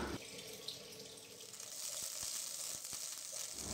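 Rice tempered in melted ghee sizzles in a pan with a steady hiss, joined by running water and a few sharp clinks, close by, with no talking.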